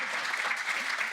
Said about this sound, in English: Let's keep the applause going for Mel.